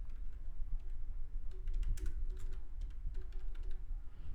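Steady typing on a computer keyboard, a run of soft, close clicks of varying pace over a low background hum, with no speech.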